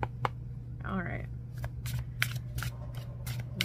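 A deck of tarot cards is shuffled by hand in several quick, papery riffling bursts, close up and fairly quiet, with a brief voiced sound partway through.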